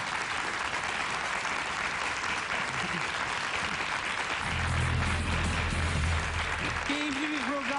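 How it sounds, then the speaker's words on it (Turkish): Sustained studio audience applause opening the first round of the Turkish quiz show Bir Kelime Bir İşlem, loud and continuous throughout, with a voice and music swelling beneath it toward the end. "Arkadaşlar kocaman bir alkışla birinci aşama başlasın"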